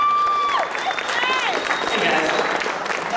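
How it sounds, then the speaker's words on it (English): Lively audience applause at a startup pitch event and party, dense clapping throughout with whistles rising and falling above it and some cheering from the crowd. "How about a round of applause for Adventus Law and Richard?"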